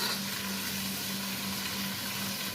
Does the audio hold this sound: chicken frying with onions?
yes